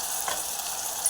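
Masala paste for rajma sizzles steadily in a hot pan with ghee, a continuous bright frying hiss with faint stirring and no voices.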